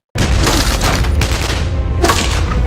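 A gunfight in a TV drama breaks into loud, rapid gunfire that keeps rattling in a dense volley, swelling again in a fresh burst near the end.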